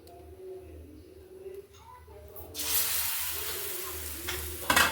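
Pudla batter hits a hot oiled pan and breaks into a loud, steady sizzle about halfway through, after some quieter speech and kitchen sounds.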